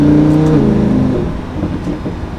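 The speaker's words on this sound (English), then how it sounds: "every time you let off the gas, it just pops and bangs with the exhaust" Lamborghini Huracan LP 610-4 engine dropping off throttle with a loud, near exhaust note falling in pitch, followed by rough crackling and burbling as revs settle.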